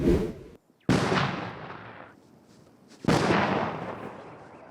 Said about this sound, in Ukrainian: Відійшовши на безпечну відстань, піротехніки дистанційно знешкоджують виявлені снаряди.